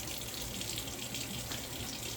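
Tap water runs steadily into a bathroom sink as a face is rinsed, a soft continuous splashing hiss heard alone.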